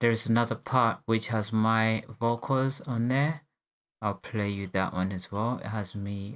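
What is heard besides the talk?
No distinct noise like a dog, phone or traffic.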